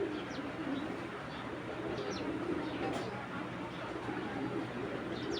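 Pigeons cooing steadily in a loft among breeding birds, soft low coos repeating under a constant background hum with occasional faint chirps.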